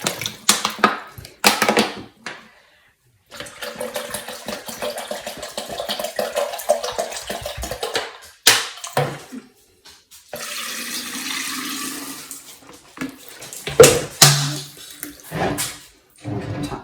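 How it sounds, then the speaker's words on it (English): Bottled water pours in splashy, uneven runs into a jar of apples, broken by brief clinks and handling noises, with quiet gaps between pours. "now I need to add water, and this is one of the times I will use bottled water"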